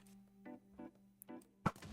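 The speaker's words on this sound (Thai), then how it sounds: "ธนูไฟที่สามารถระเบิดได้นะครับ ลองยิงดู" A fire arrow loosed from a bow in Minecraft, with a sharp close thunk and whack near the end, preceded by a few softer knocking game sounds.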